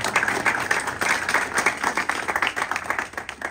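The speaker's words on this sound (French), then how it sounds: "Jérôme, lève-toi pour t'applaudir." An audience applauds the architect at the presentation of a four-star hotel project, with dense, continuous clapping from many hands throughout and no pause.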